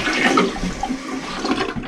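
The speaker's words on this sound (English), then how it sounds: "Now we're gonna just keep flushing it one more time." A toilet flushes right after its fill-valve float has been raised to the fill line during a DIY replacement, a loud close rush of swirling water with no talk.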